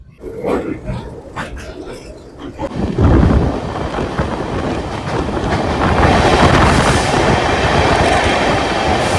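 The 13126 Sairang–Kolkata Express runs through green hills on the Mizoram railway, heard from on board. A quieter opening gives way to a loud, continuous rumble with clattering wheels that stays heavy to the end.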